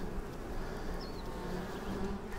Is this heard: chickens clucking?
no